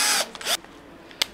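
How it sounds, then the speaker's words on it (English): A power drill fitted with a brush attachment whirs in short bursts, with a strong initial spin-up followed by brief mechanical clicks and a final quick buzz, close and fairly loud. "I love this drill brush attachment for giving stuff a good"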